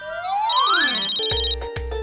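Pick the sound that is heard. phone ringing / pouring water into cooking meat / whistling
phone ringing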